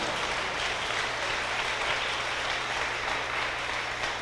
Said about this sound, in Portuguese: seja um profeta contentado, e as palmas louvam a Jesus de Nazaré